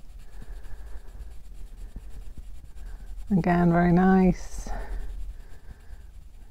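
A 14B graphite pencil scratches and scrapes across blue paper in short strokes, quiet and close, while a person briefly speaks over it partway through.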